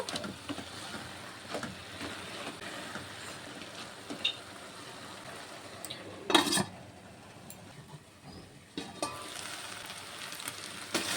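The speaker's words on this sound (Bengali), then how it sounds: "আলুটিকে দিয়ে আবারও একটু নেড়ে ছেড়ে আমি আবারও ঢাকা দিয়ে কিছুক্ষণ রান্না করে নেব।" Fried potatoes are stirred into a banana flower and prawn curry in a pot, with a quiet, steady sizzle punctuated by scattered utensil scrapes and one louder clatter midway.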